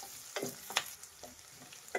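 Onions, garlic and curry leaves fry quietly in a pan for capsicum tomato gravy, a faint sizzle broken by a few soft, separate scrapes of a spoon stirring.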